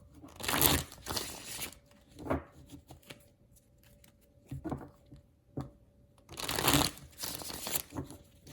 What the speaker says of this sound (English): So just while I'm shuffling the cards